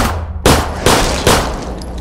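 Three sharp, loud bursts of automatic rifle fire in the video game Zompiercer, spaced about half a second apart, each with a short rattling tail, close and dry.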